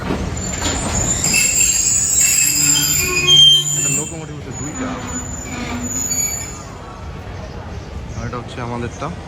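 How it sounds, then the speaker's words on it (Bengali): Tungipara Express passenger train pulling into a station, its wheels squealing in high, drawn-out tones over continuous rumbling and clatter, with people talking nearby on the platform. "এখানে কোন এসে একটা টঙ্গিপাড়া এক্সপ্রেস ঢুকলো দেখতে পাচ্ছ তো"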